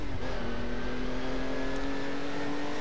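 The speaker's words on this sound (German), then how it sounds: "Stellt euch Autofahren ohne das hier vor, ohne den Motorsound." Steady engine drone from a car in the racing video game Alarm für Cobra 11 Highway Nights, with a sustained tone that holds at an even, continuous level for the whole stretch, no talk over it.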